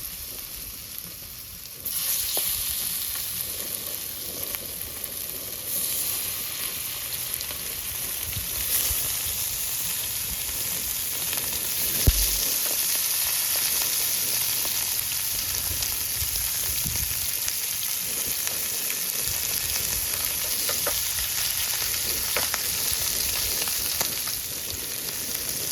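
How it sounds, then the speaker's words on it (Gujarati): Kati fish fries in hot oil with a continuous, close sizzle that grows slightly louder after a couple of seconds and carries on evenly, with a few faint stirring knocks and no talking. "તેલ આપણું જેવું તેવું ગરમ થઈ ગયું છે ને હવે આપણે નાખવાનું છે કાઠી"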